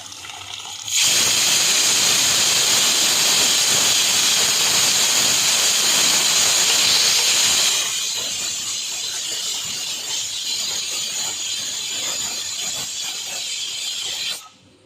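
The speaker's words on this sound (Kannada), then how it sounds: "ಬೇಳೆ ಇವಾಗ ಅದಕ್ಕೆ ಹಾಕಿ ಕುದಿಸ್ಕೋಬೇಕು" Mashed lentils go into hot oil in a pan for restaurant-style dal fry, bursting into a loud, broad sizzling hiss that holds for several seconds, then settles into a softer, steady bubbling crackle until it stops.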